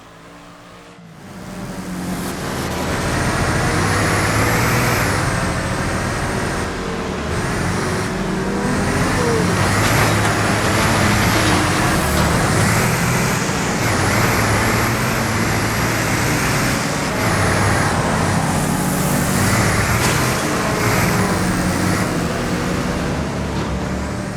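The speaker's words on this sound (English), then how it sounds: "very few racing titles can match the fun that you can have in WRECKFEST" Racing cars in the video game Wreckfest, a loud continuous roar of engines revving and accelerating together with tire and crash noise, steady throughout after a brief quieter start, with no talk.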